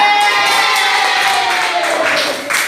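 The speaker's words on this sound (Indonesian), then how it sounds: "Tepuk tangan ya." Classroom students clapping and cheering on cue from their teacher, a loud, sustained burst of young voices shouting and whooping over steady claps, close and filling the room.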